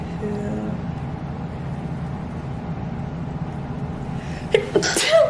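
A single sharp, loud sneeze bursts out near the end, following a steady low background rumble; a second brief burst trails right after.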